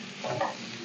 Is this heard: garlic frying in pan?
yes